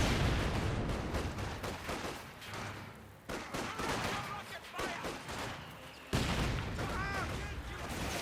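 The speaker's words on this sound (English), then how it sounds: "again with two mortars just firing away" Two mortars keep firing at a Schwer Panzer HQ in a 1v1 Company of Heroes 2 match: dense, continuous battle noise of repeated thuds and gunfire, with a sharp blast near the end, all loud and layered under a commentator's voice.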